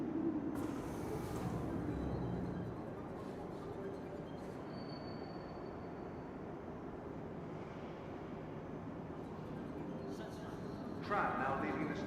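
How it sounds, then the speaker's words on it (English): A tram pulls out of the station in Star Citizen with a steady rolling rumble and hiss, joined by brief higher squeals and clanks near the start and end. "Tram now leaving the station."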